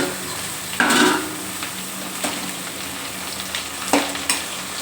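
Onions sizzle and fry in a pan as tomato pieces go in, with a constant crackle under a few sharp spoon scrapes and stirring knocks against the metal, and no voices.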